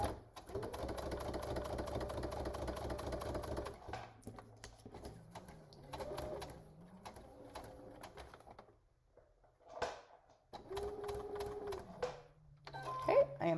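A sewing machine stitching a heart garland hums in a steady run near the start, then gives short intermittent bursts of stitching between pauses, with a quiet voice talking in the gaps.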